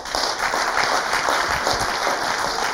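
Dense, steady applause from a live audience at a talk show honoring a trophy winner, many hands clapping continuously and loudly throughout with no speech over it.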